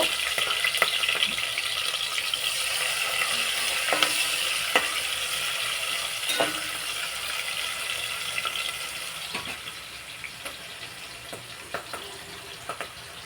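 Chicken feet with green chillies frying in hot oil, a steady close hiss and crackle that holds through the whole stretch and eases slightly toward the end, broken by occasional utensil clicks, with no talking.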